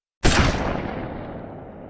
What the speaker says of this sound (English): Then, a gunshot.